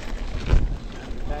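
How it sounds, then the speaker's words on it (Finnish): Strong gusty wind on a ski slope, a loud broadband roar buffeting the microphone and swelling midway before easing back to a steady rush. "täällä on tänään ollut vähän napakka tuuli"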